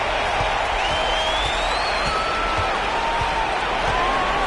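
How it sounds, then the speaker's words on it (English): Basketball arena crowd late in a close game, a steady dense roar of many voices with scattered whistles and cheers, loud and continuous throughout, with a faint low thump of play underneath. "And the crowd is locked in."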